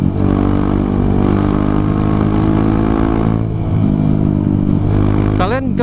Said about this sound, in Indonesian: namanya juga motor trail